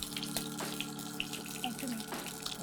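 Bay leaf and mustard seeds crackle and sizzle in hot oil, a tempering for Bengali shukto. The frying hiss is steady and close, with small pops scattered through it.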